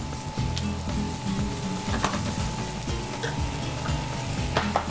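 Onions and green peppers sizzle and fry in a pan with sausage for a Napolitan spaghetti, with steady close crackling broken by utensil scrapes and stirring knocks.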